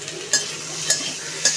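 Diced potatoes and tomatoes are stirred into hot oil in a pan for a Bengali fish curry, giving a steady soft sizzle with three sharp scraping stirs spaced evenly, close and moderately loud.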